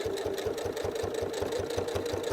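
A sewing machine stitches a small fabric mini wallet, its needle mechanism chattering in a fast even rhythm, close up and continuous throughout without any voices.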